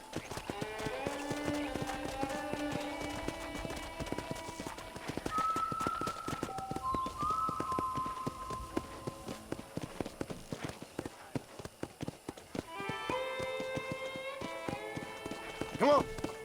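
Horse hooves clip-clop steadily during a ride in Red Dead Redemption, with a voice speaking over them and background music tones, at moderate level throughout.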